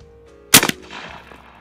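A single sharp, loud report from an air-powered shotgun firing 8-shot at a target 20 yards away, followed by a short hissing decay and then quiet.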